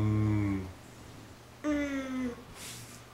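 A young child imitates a cow's moo with two drawn-out voiced calls, the first loud and low, the second higher and wavering, separated by a brief pause.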